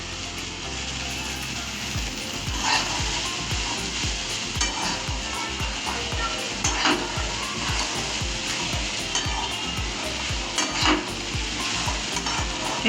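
Chickpea ghugni fries in a pan under a steady sizzle, with a spoon scraping and stirring in a regular rhythm of close strokes throughout.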